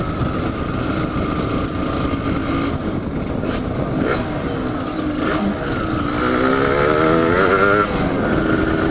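Yamaha DT125 two-stroke motorcycle engine running steadily while riding on a road, a continuous loud drone that swells and rises in pitch toward the end as the bike accelerates, with wind rush and no talking.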